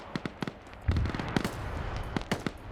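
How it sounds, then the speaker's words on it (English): Explosions in a video game battle pop and crack repeatedly at a moderate distance, with sharp bursts scattered over a rumbling, crackling din. "I'm hearing more explosions."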